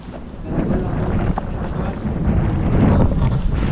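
Strong wind buffeting the microphone, a low, rumbling roar that swells and gusts steadily throughout.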